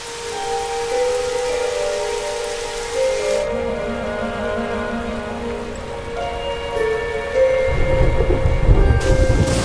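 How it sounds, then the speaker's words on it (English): Thunderstorm in the video game Dragon Quest XI S: steady rain and rumbling thunder fill the whole stretch, with a heavier, louder surge of thunder near the end, all under soft game music and no talk. "storms are coming"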